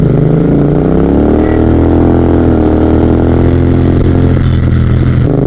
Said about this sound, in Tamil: ஸோ இப்போ நம்ம இங்க தாங்க GT ஓட்ட போறோம் எக்ஸாஸ்ட் போட்டு.